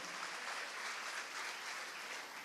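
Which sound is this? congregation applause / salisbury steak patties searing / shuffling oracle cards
congregation applause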